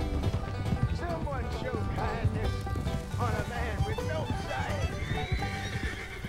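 Horses neigh and hooves clip-clop in a farm-life video game, dense layered whinnies and hoofbeats over background music, with a voice talking throughout.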